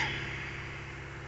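A Kia Soul with a 2.0L GDI engine idles steadily at about 2,000 rpm after a piston soak. It gives a low, even hum with a rough, pulsing undertone, faint and constant, and no one speaks.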